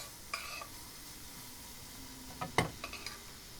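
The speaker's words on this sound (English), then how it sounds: "So we have the rice. Stirring that because it's still hot." Hot cooked rice stirred for a chickpea curry: soft scraping strokes with a few sharper utensil scrapes and taps near the end, over a faint steady sizzle, close and fairly quiet.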